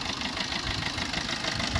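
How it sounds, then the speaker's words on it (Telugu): A 2019 Maruti Breeza ZDI+ diesel engine idles with a steady, close, rough rumble and a faint knocking texture, and no voices are heard. "నెక్స్ట్ వచ్చేసి మీకు ఇంజన్ సౌండ్ ఎట్లుంది అది కూడా వినిపిస్తారు చూడండి."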